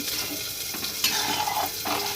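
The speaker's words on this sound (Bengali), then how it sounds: "একটু নাড়াচাড়া করে নেব" A spoon scrapes and stirs through bubbling egg curry in a pan, several soft strokes over a constant simmering sizzle.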